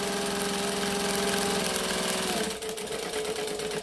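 A sewing machine stitching fabric runs at a steady, fast, close mechanical whir with rhythmic needle chatter, then slows and changes pitch near the end.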